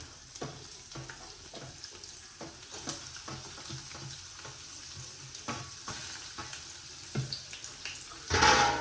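Finely chopped onion and tomato frying in a pan for egg curry, with steady sizzling and stirring clatter, spoon scrapes ticking through, and a louder burst of hiss near the end.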